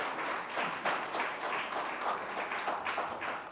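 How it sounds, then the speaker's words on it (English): A lecture audience applauds after a talk on the euro, with dense, continuous clapping from many hands heard at a moderate distance and no speech over it. "I will take the applause as a hint to shut up."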